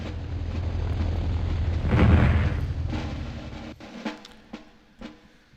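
Airstrike explosions in Army Men, a deep rumbling blast that swells and fades, followed by a few sharper distant booms and cracks, with no voices.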